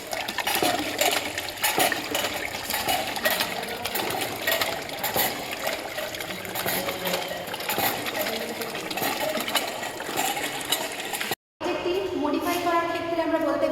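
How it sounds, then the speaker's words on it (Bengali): A pedal-driven water pump, where a large sprocket turns a small one to lift water into a tank, gives a steady, busy mechanical whirring and clatter. After a brief dropout near the end it resumes with a different, tonal texture. "প্যাডেল ঘোরানোর মাধ্যমে বড় স্প্রকেট থেকে সার্কেল মোশন ক্রিয়েট করে ছোটো স্প্রকেট ট্যাঙ্কে পৌঁছাচ্ছে, যার মাধ্যমে আমাদের জল তুলতে সাহায্য হচ্ছে"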